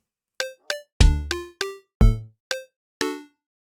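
Minecraft note blocks play an ascending D, F sharp, A figure in eight crisp plucked tones, some doubled with a low thud, each decaying quickly into silence, close and clear with no voices.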